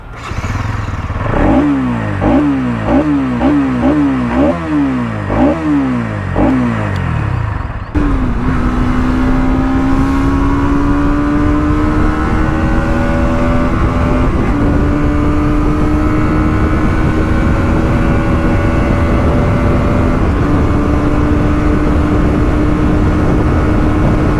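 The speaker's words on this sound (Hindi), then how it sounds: "अब आपको एग्जॉस्ट के साउंड सुना देता हूँ" A 2024 Bajaj Pulsar NS200 motorcycle engine revs in a quick series of sharp throttle blips, then holds a loud, steady exhaust drone with slowly rising pitch.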